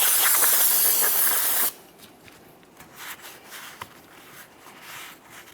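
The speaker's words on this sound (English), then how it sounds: "A little bit of parts cleaner." Parts cleaner sprayed onto a wheel hub during rear wheel bearing and hub replacement on a 2012-2015 Honda Civic: one loud, continuous aerosol hiss that stops sharply, followed by faint rubbing and handling noises.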